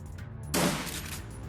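A short, sharp burst of gunfire from the Shadowrun: Dragonfall video game rings out mid-clip and trails off into a brief decay over low background game ambience.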